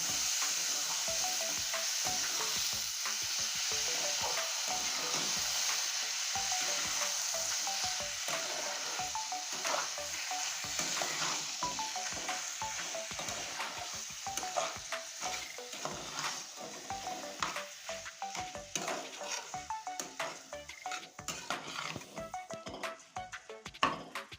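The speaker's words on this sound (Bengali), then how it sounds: "এবার সুন্দর করে নেড়ে নেবে" Taro leaf curry being stirred as it fries in a pan, a continuous sizzle with frequent scraping stirring strokes that grow more uneven and clattery toward the end, close and alone without speech.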